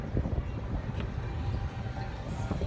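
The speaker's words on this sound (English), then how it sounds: "Now it's very windy" Steady, loud wind buffeting the microphone, a low rumbling roar that continues without break.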